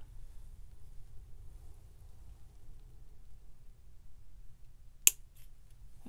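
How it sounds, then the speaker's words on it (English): Scissors snip a piece off a length of jewelry wire or chain while bead charms and dangles are being made, giving a couple of sharp, close clicks near the end after a long stretch of quiet room noise. "Then I'm just gonna cut a piece off."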